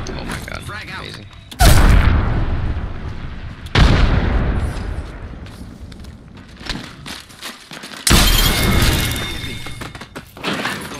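Arc star and frag grenade explosions in the Apex Legends video game burst out as three loud, booming blasts spread across several seconds, over continuous game noise.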